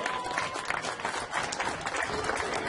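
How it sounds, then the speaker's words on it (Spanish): Dense, steady applause from a festival crowd at a patronal fair's song contest in La Virtud, 2014, with clapping filling the whole moment at close range without letting up. "regalémosle otro fuerte aplauso mientras el jurado termina."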